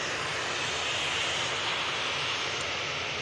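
Jet2 airliner engines roaring steadily at Manchester Airport, a loud broadband jet rush sustained throughout with no talk.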